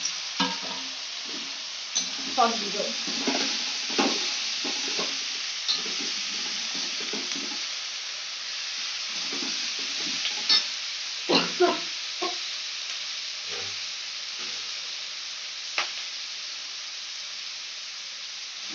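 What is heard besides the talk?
onion and capsicum frying for chilli chicken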